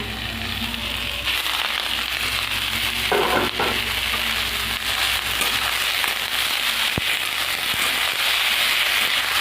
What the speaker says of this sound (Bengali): শাকগুলো দিয়ে দিয়েছি এবার শাকগুলো ভালো করে ভেজে নেব